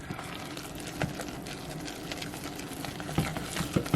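Thick churro dough being stirred right after flour is added, soft close wet sloshing and thick squelching with a few sharper knocks of the spoon against the pot, continuous and fairly quiet.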